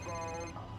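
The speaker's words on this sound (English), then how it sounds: "There's a phone." A telephone rings with a steady electronic tone, fairly faint and brief, under a low background hum.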